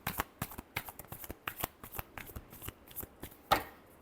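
Tarot cards being shuffled by hand: a quick run of crisp riffling flutters with short pauses, close and clear, ending in a sharper slap as the deck is squared.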